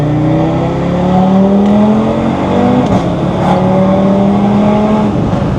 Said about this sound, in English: I did like a slower pull there, like half throttle, just so you can get a better enjoyment for the sound of this DAZA engine.